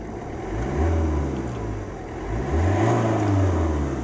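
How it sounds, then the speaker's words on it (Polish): A warmed-up 2011 Alfa Romeo Giulietta with a 1.6 JTDm diesel engine running, a close, steady low drone that swells in two gentle revs, with no talking. "posłuchamy jak silnik chodzi"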